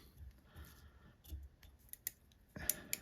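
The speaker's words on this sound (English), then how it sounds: "we're going to take and clip off all the hackle fibers on top of the thorax" Scissors snip hackle fibers from the thorax of a tied Grannom caddis larva fly at a fly-tying bench: faint soft cuts early on, then a few sharper, closer clicks near the end.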